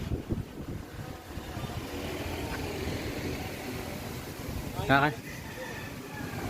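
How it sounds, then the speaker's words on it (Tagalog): Strong typhoon wind on a mountain roars steadily against the microphone in a low, rumbling rush, with faint voices and a brief sharper burst near the end. "Lakas ng hangin mga ropo."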